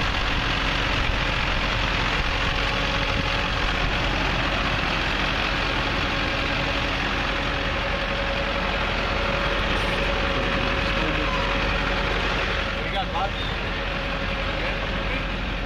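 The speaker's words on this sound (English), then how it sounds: "And here's your Duramax." Duramax diesel of a 2006 Hummer H1 Alpha open top idles steadily and fairly loudly, a continuous low rumble with a faint knock, running without a break the whole time.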